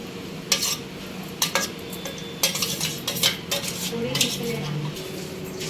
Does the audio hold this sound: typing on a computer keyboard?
no